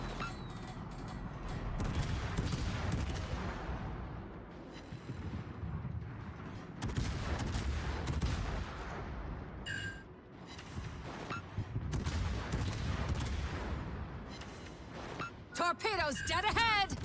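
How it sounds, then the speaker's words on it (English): Cruiser anti-aircraft guns in World of Warships pounding away in rolling volleys of deep thuds and rapid pops, steady under battle ambience, with voice callouts and alert tones over the top. "Anti-aircraft gun cruiser on full alert."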